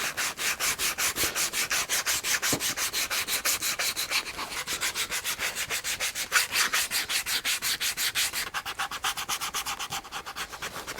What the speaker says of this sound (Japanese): 今度はサンドペーパーでやすっていきます。